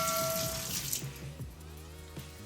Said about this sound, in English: And I'm gonna add some pimento seeds. Just gonna rinse them a little.